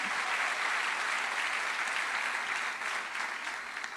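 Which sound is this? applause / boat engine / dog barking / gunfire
applause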